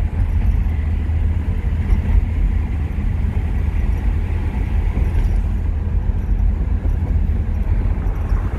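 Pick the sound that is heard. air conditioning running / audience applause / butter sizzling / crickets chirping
air conditioning running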